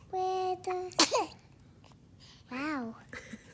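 A baby gives a short, sharp sneeze near the one-second mark, set between bursts of infant babbling and cooing close by.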